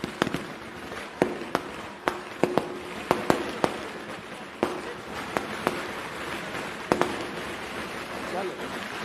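Firecrackers burst in a rapid, irregular string of sharp pops and cracks, some close and loud, others fainter, over a noisy outdoor background.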